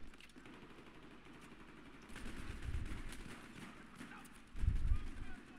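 Muffled Battlefield 3 gunfire rumbles low and distant beneath a steady game soundscape, with two heavier bursts of shots standing out, the louder near the end.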